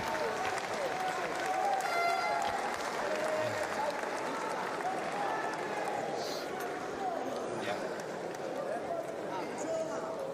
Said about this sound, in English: A big crowd at the Max Schmeling enjoying this.